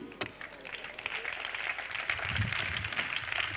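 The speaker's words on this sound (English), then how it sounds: "No, a premature clapping." An audience at a spiritual discourse breaks into early, scattered clapping that builds into a fuller round of applause, moderately distant and without talk over it.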